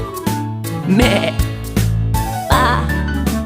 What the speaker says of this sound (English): The sheep on the farm say ba,